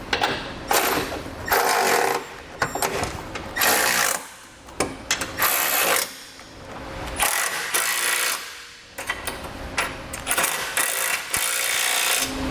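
Bolts on a Roadmaster crossbar-style base plate kit are run down on a 2006 vehicle with a power tool in repeated loud, close bursts of whirring and rattling, broken by short pauses.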